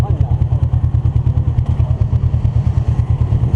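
A Kawasaki Ninja motorcycle engine, roughly eight years old, idling close by with a rapid, even low thumping pulse and some clatter, while people talk over it.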